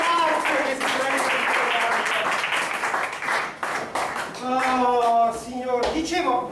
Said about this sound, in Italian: Un applauso a Marco che si prende.